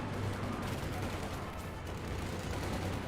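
A German 250 half-track rolls past in Company of Heroes 2, its machine gun firing dense rapid bursts amid a busy, loud battle din, with voices talking over the gunfire.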